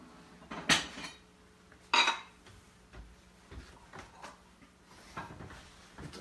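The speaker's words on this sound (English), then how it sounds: "Here's where I keep all my dishes." Dishes and cutlery being handled while preparing tea in a home kitchen: two sharp ceramic clinks stand out early, followed by softer scattered knocks and rattles, close by with no talk.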